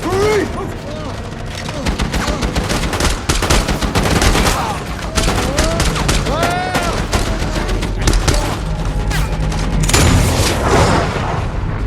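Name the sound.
gunfire and explosions in an action film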